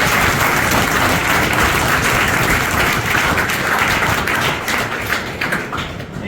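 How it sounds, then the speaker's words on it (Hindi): Loud, dense applause from an audience at a police academy gathering honouring an officer and his parents, sustained and close, tapering slightly toward the end. "एक बार और जोरदार ताली"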